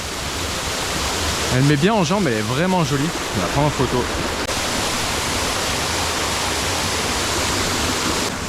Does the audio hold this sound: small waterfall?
yes